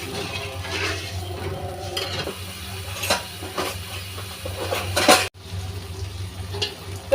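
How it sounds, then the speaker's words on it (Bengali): Potatoes cooking with spice water in a pan hiss and sizzle softly while a utensil stirs and clinks against the metal, with a few sharper scrapes and knocks. "বাটির মধ্যে মশলার পানিটা দেওয়ার পর আলুটা এইভাবে 2-3 মিনিট কষিয়ে নিলাম, পানিটা শুকানো পর্যন্ত।"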